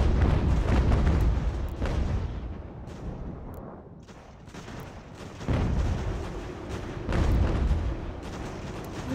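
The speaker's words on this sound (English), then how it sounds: "They are firing at our skirmishers." Artillery and musket fire in the Ultimate General: American Revolution battle game, heard as heavy booms and overlapping gunfire volleys that swell and fade, with a quieter lull in the middle before the barrage picks up again.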